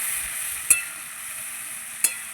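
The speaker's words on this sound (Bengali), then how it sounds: "সুন্দর করে কষিয়ে নেব মশলাটা।" Spice paste fried and stirred over low heat in a pan for a Bengali cauliflower curry, giving a steady soft sizzle with two sharp scraping knocks of the spoon against the pan.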